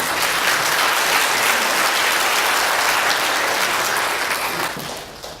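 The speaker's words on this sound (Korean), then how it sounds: "큰 박수로 맞아주시기 바랍니다" An audience gives a loud, sustained round of applause to welcome a speaker at a Korean launch ceremony and lecture, with dense clapping that holds steady and then tapers off near the end.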